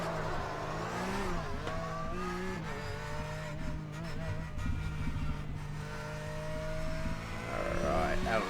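A Porsche 911 GT3 Cup race car engine in iRacing revs and shifts through gears, whining up and down in pitch with tire noise, with a voice talking over it.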